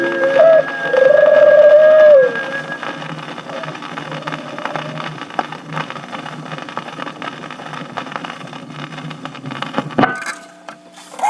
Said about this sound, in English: even to the doves, cooing in their nests